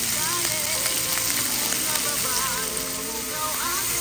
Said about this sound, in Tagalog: sinigisa ko po siya sa bagoong